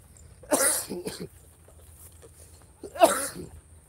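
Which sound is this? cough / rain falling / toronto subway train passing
cough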